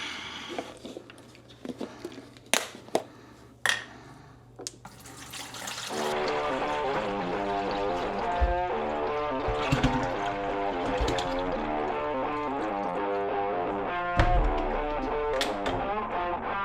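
Liquid poured into a clean, sanitized Igulu F1 home brewing keg: a few scattered clicks and knocks, then a steady rushing pour that runs continuously through the second half.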